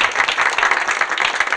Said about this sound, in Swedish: En liten applåd kanske.